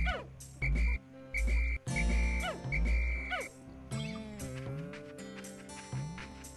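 A frog enemy in the Pikmin video game croaks in a run of deep, booming calls with pauses between them, alongside chirpy game sound effects and music.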